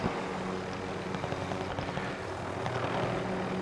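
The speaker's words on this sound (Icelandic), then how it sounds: "Þyrla." A helicopter in the video game Warzone gives a steady droning rotor and engine rumble with faint rhythmic beating, moderately loud and continuous throughout, with no talk.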